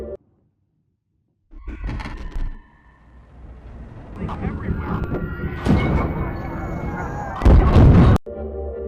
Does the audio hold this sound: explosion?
yes